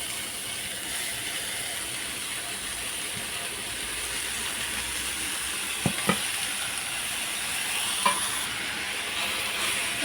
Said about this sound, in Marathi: याच कढईमध्ये मी ही बारीक चिरलेली मेथी भाजून घेते.